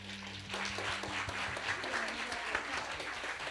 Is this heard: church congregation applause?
yes